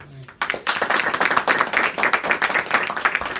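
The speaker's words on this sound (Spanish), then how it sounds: "Démosle un fuerte aplauso, Señor." A church audience breaks into applause after a brief quiet opening, with a fairly small group clapping close and energetically in uneven bursts until the end.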